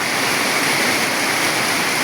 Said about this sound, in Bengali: অনেক বৃষ্টি হয়েছে ভাই, দেখেন অনেক বৃষ্টি